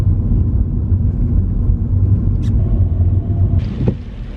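A car drives through rain while looking for a parking spot, a steady loud low engine and road rumble filling the cabin, with a brief faint click and a swish near the end and no talking.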